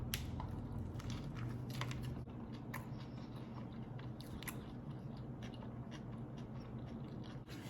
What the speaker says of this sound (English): Let's just taste it.